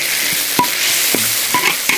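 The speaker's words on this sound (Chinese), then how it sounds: "把剁辣椒放下去" Chopped chili stir-fried in lard with ginger and garlic gives a steady close hiss of frying, broken by a few sharp clinks and scrapes of a spatula against the wok, with no talking.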